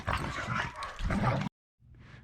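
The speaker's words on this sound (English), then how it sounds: "My dogs are being crazy right when I'm trying to do a video." Dogs bark and whimper in agitated, close bursts, then fall briefly silent before a softer whine resumes.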